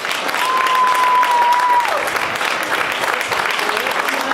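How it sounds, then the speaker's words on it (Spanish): A hall audience at a youth football academy presentation for Atlético Villanueva applauds the sports councillor, a steady, dense wash of clapping from many people with a faint tone running through the first part. "Un aplauso para él."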